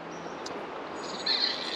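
Over the constant hiss of the River Ayr in spring, distant birds give soft, high chirps, with one brief, brighter call rising near the end.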